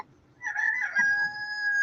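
A rooster crows once, a clear drawn-out call rising and then holding a long steady note, fairly close and alone with no talk.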